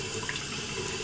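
A makeup brush holding dark foundation is wetted under a running tap, giving a steady, close, full splash of flowing water throughout the short moment.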